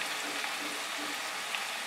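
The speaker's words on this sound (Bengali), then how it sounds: "ভালো করে মশলাটাকে কষিয়ে নিতে হবে।" Spice masala with salt, amchur powder and a splash of water cooks down in a pan for bhindi do pyaza, a soft, steady sizzle heard close and alone.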